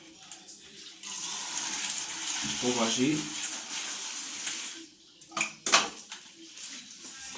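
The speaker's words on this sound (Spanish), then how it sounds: "Voy a echarle un poco más con el grifo de la ducha de agua" Water runs from a shower tap in a steady hiss across most of the clip, fairly close, with a brief stretch of talk partway through and some clatter near the end.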